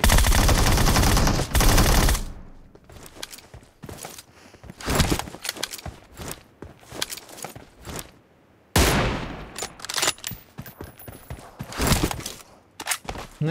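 Video game gunfire: loud bursts of rapid automatic shots at the start and again midway, with scattered single cracks and footsteps between them, no talk.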